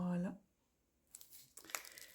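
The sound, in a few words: crinkling paper wrapping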